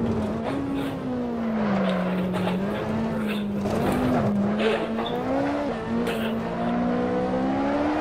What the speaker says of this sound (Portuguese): O carro estava a sair completamente de frente, de trás, de todos os lados